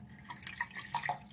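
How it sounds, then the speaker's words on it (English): Water from a shower tap runs gently over a mucky shower waste thread to wash debris away, a faint, soft splashing trickle with light drips, heard close and without talk. "just run a little bit of water and get any debris washed away"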